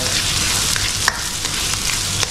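Onions soften in a hot pan for corned beef fried rice, making a steady, loud frying sizzle throughout, broken by a few light clicks of a stirring spatula and no voices.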